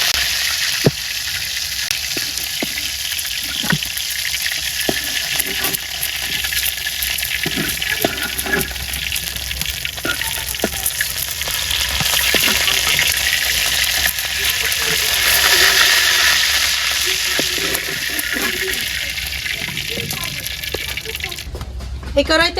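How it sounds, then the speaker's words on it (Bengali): Oil sizzles steadily in a wok, a continuous hissing fry close by that swells and eases slightly over its length, with no talking. "এই কড়াইতে তেল দিয়ে দিলাম, এইটা আমি ভাজিব"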